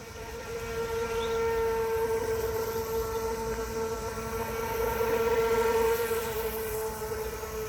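A gas-powered RC boat with a brand-new motor running on water, a steady high-pitched engine whine that holds a nearly constant tone throughout, loud and continuous.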